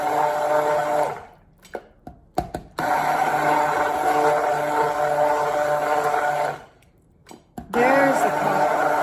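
An immersion blender whirs through cold process soap batter mixed with turmeric, loud steady motor drone in two long bursts separated by brief pauses with clicks and handling noise.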